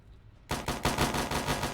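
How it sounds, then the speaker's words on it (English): Rapid automatic gunfire bursts out abruptly after a quiet moment in the Fallout Nuclear Sunset game, a fast, loud, rhythmic stream of shots with no talk over it. "Oh, they shoot them. They shoot each other."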